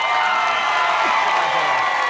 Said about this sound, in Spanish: ¡El aplauso para César Arturo!